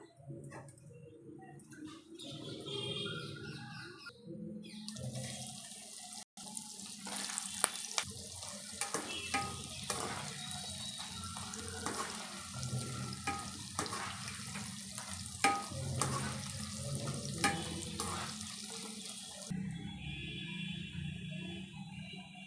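Cut pieces of bajji deep fry in hot oil, a dense continuous sizzle and crackle that starts abruptly and holds steady close by, then drops away near the end.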